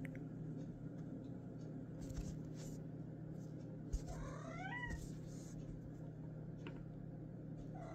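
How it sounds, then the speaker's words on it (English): A pet cat gives a brief, faint meow midway through, alone over a steady low room hum. "Oh, that was my cat."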